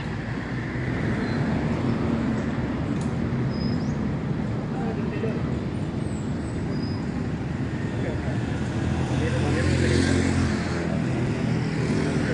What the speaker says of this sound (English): you are starting to see a lot more of the Jeepneys come out.